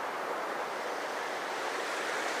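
Fast-flowing water on the Annan River, a steady broad rushing hiss that stays constant throughout, loud and close with no voices.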